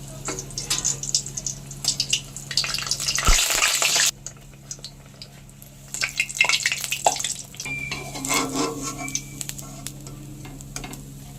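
Malpua batter fries in a pan of oil for a festival sweet, a loud crackling sizzle with scraping stirs, a brief lull midway, then bubbling resumes with occasional clinks.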